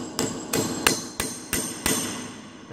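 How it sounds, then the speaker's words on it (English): A hammer strikes a drawing-up tool set over a rivet in a metal piece for orthotics and prosthetics work, six sharp metallic taps at a steady, slightly uneven pace, close and alone. "And we can hit it with a hammer"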